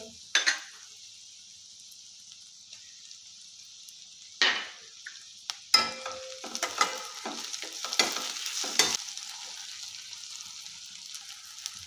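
Banana flower and prawn curry frying in a pan as tomato is added and stirred in, a soft hiss with sharp scrapes and clanks of a spatula, starting quiet and growing busier and louder.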